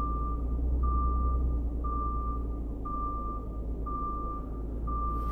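Steady, evenly spaced reversing beeps from a truck backing a trailer in a driving video game, about one beep per second over a low idling engine rumble, with no one talking.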